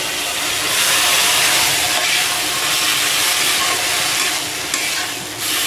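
Nali plant stalks and jackfruit seeds are stir-fried with an onion mixture in a pan in a hill village kitchen. A loud, continuous, hissing sizzle fills the clip, with stirring blended into it.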